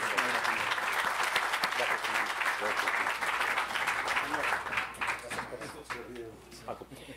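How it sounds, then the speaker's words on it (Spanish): Audience applause at a Campus Party tech event, sustained loud clapping from a large crowd that fills the whole stretch and gradually thins toward the end, with voices mixed in. "Un aplauso para los chicos."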